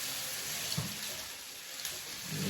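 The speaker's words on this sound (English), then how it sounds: "Let's rinse our spoon first." Running tap water pours steadily as a spoon is rinsed in a kitchen sink, a close broadband hiss with a couple of faint clinks or splashes and no talk.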